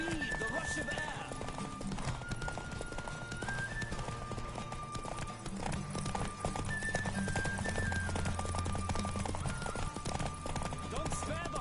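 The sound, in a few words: horse galloping, clip-clop of hooves, from video game The Witcher 3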